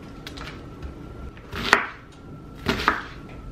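A kitchen knife chops an onion on a cutting board for meatloaf, two distinct knocking chops about a second apart plus faint lighter taps, quiet and close with no talking.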